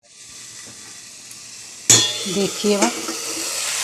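Food frying in a pan, a faint steady hiss that jumps to a louder sizzle with clattering stirring partway through, under a brief spoken remark.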